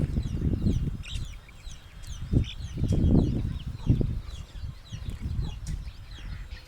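Country chickens and a turkey hen feeding on grain in a village yard, with soft clucks and bird calls scattered throughout over low rustling and scratching sounds.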